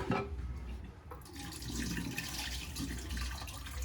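Kitchen tap water running while food is washed, a soft continuous splashing stream with a brief drop in flow near the start, fairly quiet and without talk.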